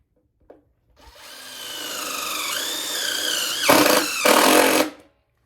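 A power drill drives the last screw into a wooden whiskey barrel, its motor whining up in pitch through one long run, then two loud, close bursts near the end as the screw seats.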